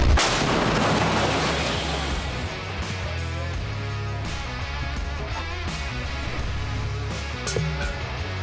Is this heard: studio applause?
no